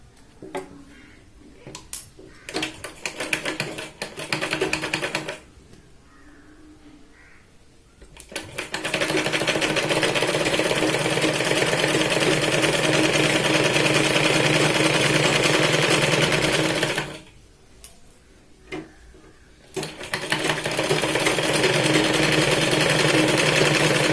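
A sewing machine stitching a straight seam along a blouse waistband runs in long steady bursts, loud and close, with short pauses between runs and no talk.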